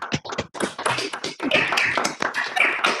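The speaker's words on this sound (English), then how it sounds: "I'd like you to join me in a round of applause for the panelists." Several people in an online meeting clapping for the panelists over open microphones, a few separate sets of hands tapping and clapping unevenly at close range, loud and uncoordinated, with no talking.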